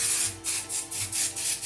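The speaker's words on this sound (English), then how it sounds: "I'm just going to spray temporary adhesive on the stabilizer" Temporary spray adhesive misted onto embroidery stabilizer in short, hissing bursts, about five quick sprays in an uneven rhythm, close and fairly loud with no talking.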